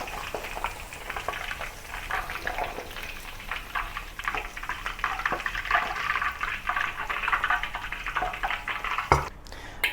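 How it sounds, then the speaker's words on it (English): Squid deep frying in hot oil, a dense crackling bubbling sizzle that holds steady throughout, close and loud, ending with a brief clatter, no voices. "Deep fry for about 3 minutes and then remove from the oil."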